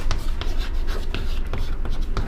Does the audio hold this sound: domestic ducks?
no